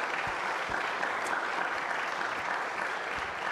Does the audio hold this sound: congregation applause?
yes